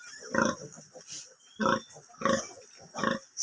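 A nursing sow with her newborn piglets on a farm grunts in steady, rhythmic bursts about every second, close and clear with little else around.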